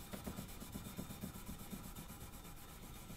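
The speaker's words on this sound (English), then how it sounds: "I take off all the oxides with a high grit sandpaper, in my case 2500 grit" A Damascus steel cleaver blade is hand-sanded with 2500 grit sandpaper, the soft scratchy rubbing strokes repeating in a quick, even back-and-forth rhythm, close and quiet.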